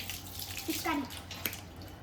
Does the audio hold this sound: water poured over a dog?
yes